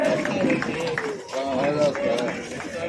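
A rally crowd claps to welcome a local MLA, a steady patter of hands under loud, continuous talk and general crowd noise across the whole stretch.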